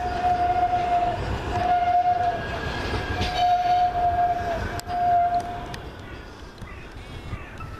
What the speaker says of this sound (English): Comes another tram coming in to terminate here at Rochdale.